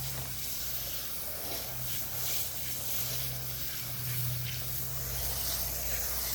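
Water sprays steadily onto seed starting trays of potting mix sown with okra seeds, a continuous close hiss running for several seconds without pause.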